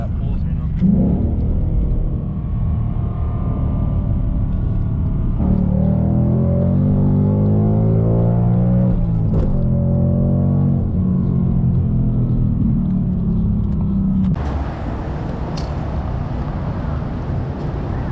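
A car cruising around town gives a loud, continuous engine rumble that rises and falls in pitch as it accelerates and eases off, with cabin and wind noise throughout.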